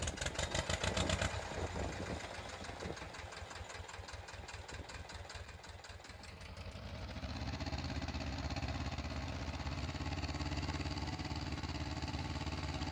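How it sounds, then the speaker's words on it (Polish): A small farm tractor runs steadily while hauling a load of manure out to a field, its engine chugging with a rhythmic knock at close range. The note shifts partway through as the tractor labours, and no one speaks. "Idziemy sobie ciapkiem, bo nie mamy innego ciągnika."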